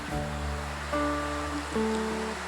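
Heavy rain pours outside a home kitchen as a steady, close wash of hiss, with a sustained tonal hum and whine layered over it and no voices.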